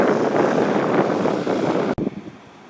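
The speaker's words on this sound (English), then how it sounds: "20 mile per hour winds" Strong desert wind at about 20 miles per hour buffets the microphone in a loud, steady roar that drops away abruptly near the end.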